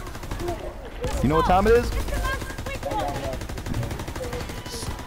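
Rapid automatic gunfire rattles on and off in the Call of Duty WWII Zombies video game, steady and mid-distance beneath excited players talking over it.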